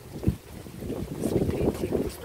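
Strong wind during a thunderstorm in Edmonton, gusting and rumbling into the microphone as a rough, steady roar that swells in the second half, heard close without speech.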